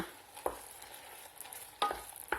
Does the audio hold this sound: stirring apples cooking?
yes